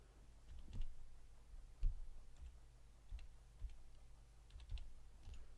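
Scattered keystrokes on a computer keyboard, soft irregular clicks spaced apart, faint and close with a quiet background and no talking.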